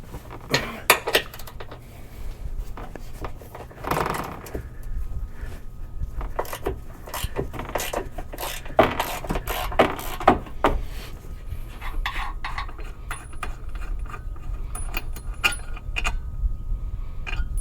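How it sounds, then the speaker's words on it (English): Recovery point bolts come off a Ford Bronco bumper in a string of close metallic clinks, taps and tool jangles, with irregular bursts of clatter and no voices. "get to taking off first this recovery point and then get the bolts out so we can get this bumper slid off"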